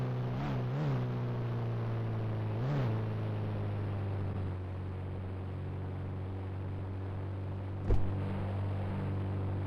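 A Mahindra Scorpio SUV drives in the mobile game Indian Bikes Driving 3D. Its engine gives a steady, droning hum throughout, with brief revving swells near the start and a sharp click late on.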